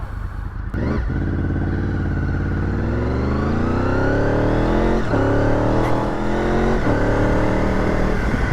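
A 2000 Honda VFR800 motorcycle under way, its engine droning loud and close as it pulls through the gears, the pitch climbing in long smooth sweeps and dropping at each shift, with steady road and wind noise and no talk.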